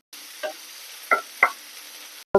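Chopped fenugreek leaves hit hot refined oil for a spicy Madakku snack, giving a soft, steady sizzle with a few sharp crackles and knocks scattered over it, close and fairly quiet.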